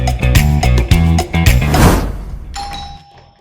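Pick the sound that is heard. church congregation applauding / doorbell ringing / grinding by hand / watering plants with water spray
doorbell ringing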